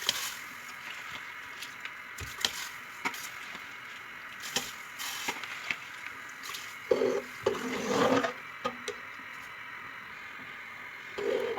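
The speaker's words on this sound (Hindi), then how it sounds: "अब इसमें मैं चावल डाल दूंगी।" Scattered patters and soft splashy rustles as rice grains tumble into boiling water, with a brief louder swishing burst partway through, fairly close.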